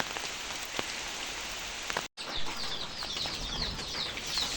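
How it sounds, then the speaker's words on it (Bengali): Steady rain falls on a goat farm during a spell of continuous stormy weather, a dense, even patter with scattered drops. Distant chickens cluck faintly beneath it, and the sound cuts out briefly partway through. "গতকালকে বৃষ্টি হয়েছে আজকেও বৃষ্টি এই যে মানে টানা বৃষ্টি"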